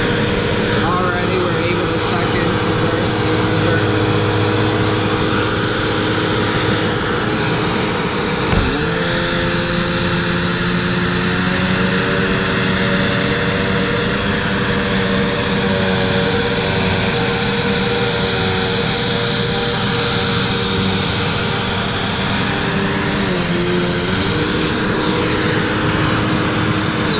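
A Eureka PowerSpeed Pro Turbo vacuum cleaner runs steadily and loudly throughout, with a high whine over a constant roar and a brief dip in pitch as it is pushed across pet hair.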